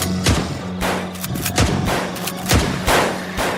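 A rapid series of gunshot sound effects in a spoken Tagalog horror story about a nurse in an aswang village hospital: four or five loud, sharp bursts at an uneven rhythm with echoing tails.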